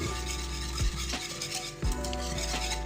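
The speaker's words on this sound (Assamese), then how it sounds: "হেতাখনেৰে এনেদৰে অকণমান উঠি দিম" Whole chana (gram) being stirred with a spatula in a pan, soft scraping strokes and a few metallic knocks against the pan over a continuous faint sizzle, close and quiet, no talking.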